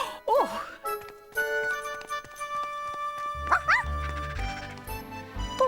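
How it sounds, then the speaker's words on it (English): A dog barks in an animated cartoon setting, several sharp yips and whimpers in a short burst, with a jingling tag and bright musical score underneath. "My, what a well-behaved pup."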